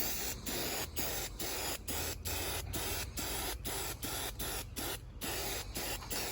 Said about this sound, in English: we're gonna make sure to spray in all directions because of like the stitching and stuff